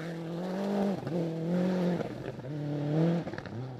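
A rally car runs hard along a gravel stage at the Rally of Coromandel. The loud engine revs up and drops back again and again through gear changes, rising and falling in steady strong waves.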